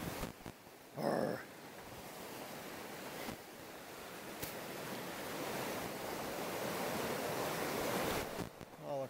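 Steady, rushing water roars beside a hiking trail near Santa Barbara campgrounds, a broad, continuous wash with brief bumps and rustles from handling at the start and end.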